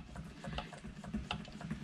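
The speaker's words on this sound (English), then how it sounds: "sewing a quilt today on my 1876 Wilcox and Gibbs sewing machine" An 1876 Wilcox and Gibbs treadle sewing machine stitching a quilt, giving a steady run of light mechanical clicks and rattles in an uneven rhythm, close by and with no voices.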